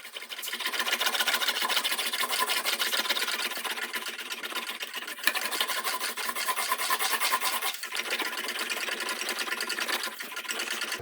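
An English wheel rolls a sheet metal panel for a custom truck box on a 1940 Ford-inspired truck build, giving a steady, close grinding rumble that runs continuously with brief dips in level.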